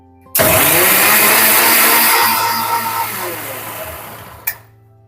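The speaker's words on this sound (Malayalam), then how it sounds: "അപ്പോൾ ഇതൊന്ന് നല്ലതുപോലെ പേസ്റ്റ് ആക്കി എടുക്കുന്നുണ്ട്" A kitchen mixer grinder whirs loudly as it grinds grated coconut and curry leaves into a paste, starting abruptly, running strong and gradually easing, then cutting off with a brief clunk near the end.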